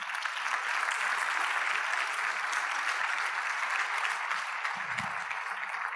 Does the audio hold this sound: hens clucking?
no